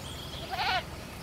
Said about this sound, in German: Jetzt läuft hier eine Ziege rum.